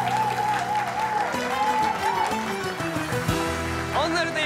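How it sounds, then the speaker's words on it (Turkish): Studio audience on a Turkish TV game show applauding a couple, steady clapping running under bright show music with tonal stings. "ikinci çiftimiz için kocaman bir alkış"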